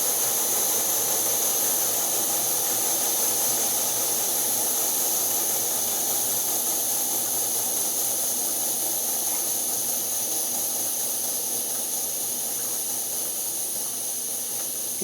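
An MSR Whisperlite camping stove burner roars with a steady, even hiss of pressurized fuel flame, close and constant throughout with no talking.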